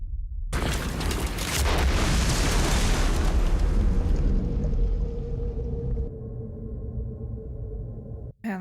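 Battlefield explosions from the war film Saving Private Ryan, a loud, sustained roaring blast that swells and slowly decays into a muffled ringing hum, with no voices.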